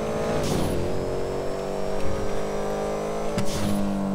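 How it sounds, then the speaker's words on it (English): A rally car engine in a driving video game drones and revs loudly up close, holding a steady pitch with two sharp rev swells at the start and end. "It's a rally car, so you're good."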